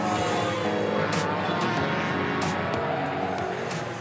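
Go-kart engines race on a karting circuit at Le Mans, a continuous high buzzing roar with repeated sharp bursts as karts pass close by.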